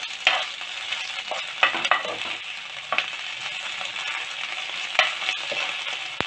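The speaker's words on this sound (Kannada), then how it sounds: "ಜಿಂಜರ್ ಗಾರ್ಲಿಕ್ ಪೇಸ್ಟ್ ಹಾಕೊಳ್ಳೋಣ ಒಂದು ಸ್ಪೂನು ಇದು ಒಂದು ಸ್ವಲ್ಪ ಹೊತ್ತು ಒಂದು ಟೂ ಮಿನಿಟ್ಸ್ ಫ್ರೈ ಆಗಲಿ" Chopped onion with a spoonful of ginger garlic paste frying in a pan for a baby corn curry, sizzling steadily close up, with scattered clinks and scrapes of a stirring spoon.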